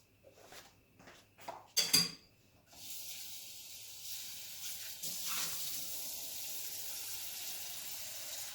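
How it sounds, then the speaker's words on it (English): A few metallic clinks of a soup pot of albondigas (meatball soup), then water pours steadily into it with a continuous splashing rush, close by. "We're going to add 2 to 4 cups more of just water."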